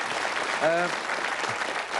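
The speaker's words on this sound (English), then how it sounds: "the audience are applauding there because there's a bit of pressure" Studio audience on the Bullseye game show applauds steadily, a dense even clatter of clapping that fills the room, with a brief voice rising over it partway through.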